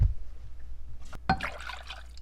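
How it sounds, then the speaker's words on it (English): Water is poured from a cup into a pot of simmering soap nuts, with a brief splash and then a softer trickle and dribble that fades over a couple of seconds. "we're just going to add another cup of water"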